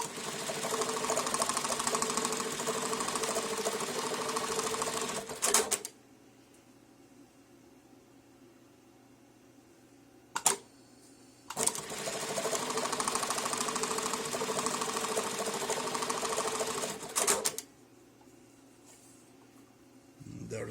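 A JACK JK-T1906 pattern tacker sewing machine stitches webbing in two loud, dense bursts of about six seconds each, separated by quiet idle hum and brief clamp clicks.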